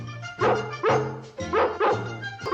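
Dalmatian puppies in the animated film 101 Dalmatians yip and bark: about five loud, close, high-pitched barks follow one another in an uneven rhythm, with no speech.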